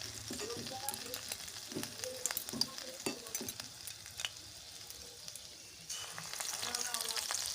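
Mustard-flower pakoras sizzle as they are dropped one at a time into hot oil, giving a steady crackling fry with irregular bursts and spatters that swell louder near the end.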